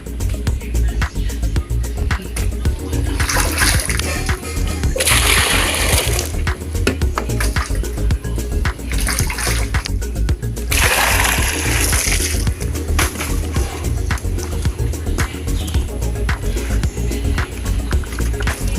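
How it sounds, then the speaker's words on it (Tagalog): Water is poured from buckets into two drums beside a deep well, coming as bursts of splashing and gushing between quieter gaps with steady background noise. "dyan binubuhos sa dalawang drum na to ang tubig"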